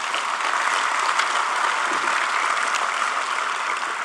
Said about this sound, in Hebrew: מגיעות לו מחיאות כפיים